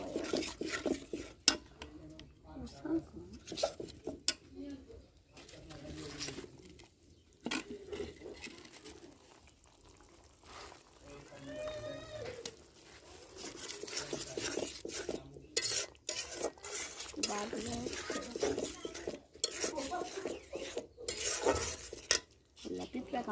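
Chicken curry masala sizzles in oil in a pot while a utensil stirs and scrapes against the metal in irregular bursts, fairly faint and close, with quieter gaps between stirs.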